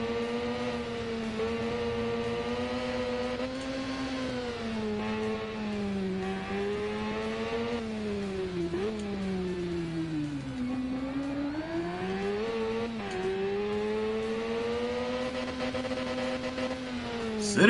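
A race car engine in a PS4 racing game is held on the rev limiter, a steady sustained buzzing drone with small dips and waver over eighteen seconds, loud and alone.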